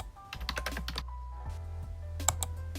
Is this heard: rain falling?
no